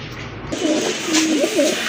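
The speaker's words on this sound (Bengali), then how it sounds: "আজকে খুবই চমৎকার এক জোড়া দামাচিন কবুতর, রেড বারের ভিতরে" A pair of Damachin pigeons in a loft coo softly and repeatedly, the low rounded calls rising and falling close by, with no talk over them.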